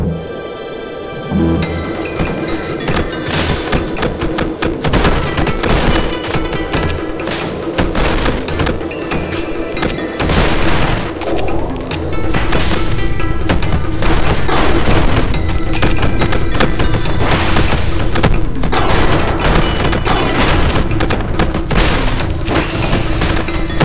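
Light machine gun fire and explosions in Superfighters Deluxe: loud, sustained bursts of gunfire mixed with heavy booms and thuds over a steady game backdrop, busy and dense for the whole stretch with no talking.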